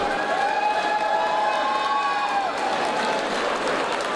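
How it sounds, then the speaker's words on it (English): A crowd at a boxing event applauds steadily, a dense wash of clapping with some cheering and whistle-like tones rising above it. "let's have a round of applause for Brad and for Leon."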